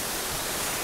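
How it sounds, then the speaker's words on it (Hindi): Steady roar of a mountain waterfall on the Amarnath Yatra trek between Chandanwari and Panchtarni, a dense, loud broadband rush of falling water that fills the whole moment without a break. "एक और झरना"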